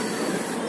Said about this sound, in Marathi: सांगलीकडे जाणारी रेल्वे आणि पुण्याकडे जाणारी रेल्वे बघा.